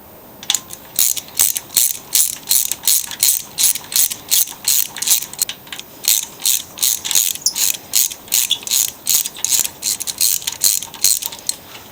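A ratchet wrench clicks rapidly while loosening the cylinder head bolts on a Poulan small engine, with close, loud bursts of ratcheting in quick, repeated strokes and brief pauses between them, and no voices.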